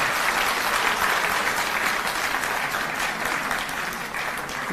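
Audience applause fills a government-organised annual awards ceremony in Delhi, a dense, steady roar of clapping from a large crowd that holds at a loud level throughout.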